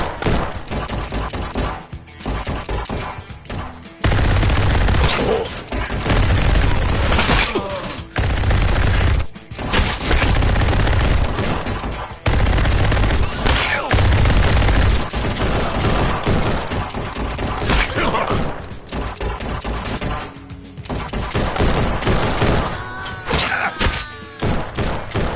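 Gunfire in the VR shooter Bulletproof VR, loud repeated shots in bursts and single blasts with short gaps between them, and no voices over it.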